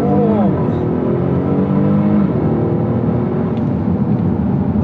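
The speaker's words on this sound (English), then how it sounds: "Give it a little bit of a brake boost, and we're off." A 2023 sports sedan in a Kia Stinger GT Elite versus Acura TLX Type S comparison launches hard from a standstill after a brake boost. The engine roars and climbs steadily through the revs, loud and close.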